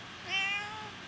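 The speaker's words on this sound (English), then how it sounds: "My cat's in here." A pet cat named Kiki gives a single clear meow, rising then falling, close by in a quiet room.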